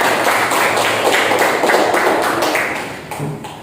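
Classroom applause for a pupil named Aska, a loud, dense burst of many hands clapping close by that holds steady, then thins and fades toward the end.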